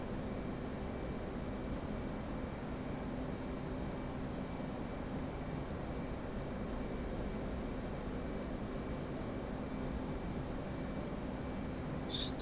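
Steady jet engine roar from an aircraft in flight in a combat flight simulation, a continuous broadband drone holding level throughout with a brief sharp burst at the very end.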